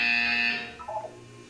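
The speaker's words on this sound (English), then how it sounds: "You will hear a buzzer." An electronic buzzer from the game Portal 2 blares loudly for about half a second, then fades away, followed by a brief faint tonal blip.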